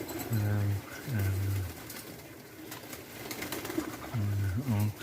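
Pigeons coo nearby in soft, repeated rounds of low throaty calls, with quiet stretches in between, as people talk faintly in the background.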